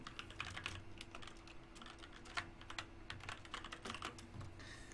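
Rapid, uneven clicking of keys on a computer keyboard during a competitive online gaming session, steady and close with a constant low electrical hum underneath and no talking.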